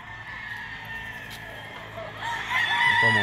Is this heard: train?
no